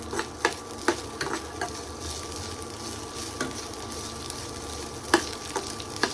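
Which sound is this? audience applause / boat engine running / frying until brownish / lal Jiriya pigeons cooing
frying until brownish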